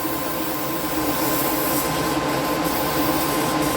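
An airbrush spraying black Outlaw paint into a rag while cleaning the gun, a steady loud hiss that holds evenly throughout with no speech.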